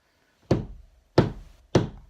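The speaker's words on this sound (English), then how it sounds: "I hear a knocking at the south entry." Three loud, hollow knocks at a door at the south entry, evenly spaced and close, with silence between them.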